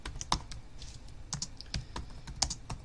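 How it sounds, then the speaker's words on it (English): Someone types unevenly on a computer keyboard, with irregular bursts of crisp, close key clicks and short pauses between them. "Listen to my horrible, not fast typing."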